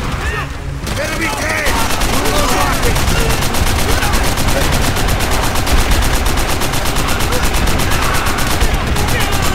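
Loud, sustained bursts of rapid machine gun fire from Call of Duty: World at War, hammering almost nonstop amid dense battlefield din and other gunfire.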